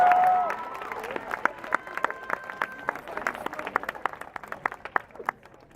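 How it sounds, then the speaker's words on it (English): An audience at a charity benefit concert claps in scattered, lively applause that thins out toward the end, with a brief voice at the start. "let's give him another round of applause"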